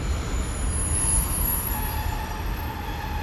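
Class 143 and Class 150 passenger train units at Exeter Central station, a steady low rumble of the train moving with a faint wheel squeal, continuous and fairly close, with no talk.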